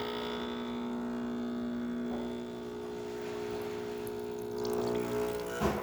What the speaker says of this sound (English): we're still gonna be able to see the machine extracting that coffee